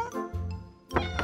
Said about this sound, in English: Larry, Larry! Cat! Cat! Yeah, we want to help the cat down from the shelf, right, Larry?